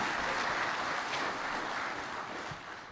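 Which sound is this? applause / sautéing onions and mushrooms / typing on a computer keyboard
applause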